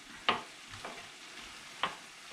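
A spoon stirs beef heart with onions and mushrooms in a pan, giving two sharp scraping clacks against the pan over a faint background sizzle.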